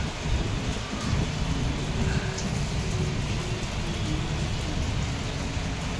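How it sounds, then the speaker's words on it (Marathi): Heavy rain pours steadily in a dense, constant hiss in Mumbai outside Asalpha metro station, with no voices, just an unbroken downpour close by. "भरपूर पाऊस आहे मंडळी. कसला पाऊस पडतो बघा."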